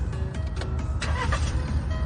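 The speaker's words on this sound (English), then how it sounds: "Started successfully. The engine is powerful." A car engine cranks and catches after a repair, then runs with a steady, close rumble and a few brief mechanical whirs layered on top.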